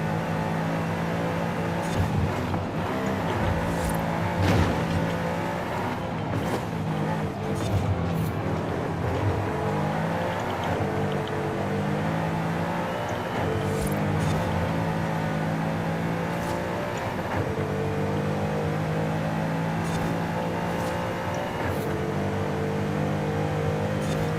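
A car engine in Forza Horizon 5 revs and shifts continuously, its pitch rising and falling through gear changes for over twenty seconds, steady and close with no talking over it.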